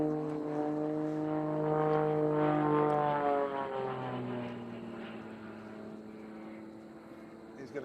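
A propeller aerobatic plane flies an aileron roll at an unlimited power aerobatics championship, its engine droning steadily with a sliding pitch that rises then falls, moderately distant and continuous.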